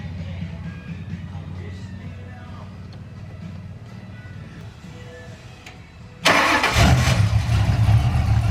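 A Ford Mustang with a swapped 351W V8 running Holley Sniper EFI idles low and rumbling under talk, then fires up abruptly with a loud, sudden roar that stays strong to the end.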